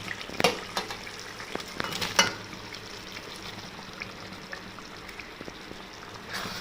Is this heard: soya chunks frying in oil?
yes